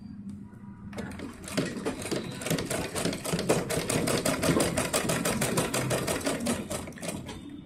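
A sewing machine stitching a small summer dress for a Laddu Gopal figure runs in a steady rapid whir of needle strikes. It starts after a brief quiet moment and continues loud and close with no talking.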